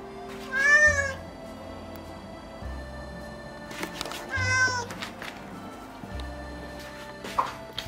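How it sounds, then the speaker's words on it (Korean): Cats meowing on a lawn: two clear, drawn-out meows a few seconds apart, with a shorter, fainter cry near the end over quiet outdoor ambience. "잔디밭 고양이들"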